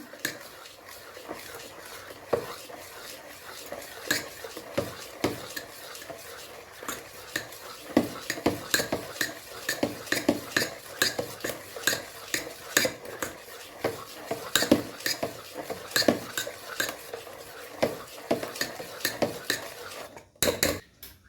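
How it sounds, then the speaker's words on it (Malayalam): A spoon stirs Kerala-style idli batter after salt is added, scraping and clinking steadily against the vessel for about twenty seconds, close and continuous, with no talking. "ഇനി നമുക്ക് ഇതിൻ്റെ ആവശ്യത്തിലേക്കുള്ള ഉപ്പ് ഇട്ട് നന്നായി മിക്സ് ചെയ്യണം"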